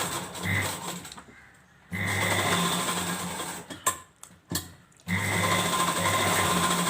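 Sewing machine stitching a lehenga dress, running in close, steady whirring bursts broken by short pauses and a few clicks as the fabric is stopped and repositioned.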